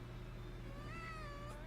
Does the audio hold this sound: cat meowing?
yes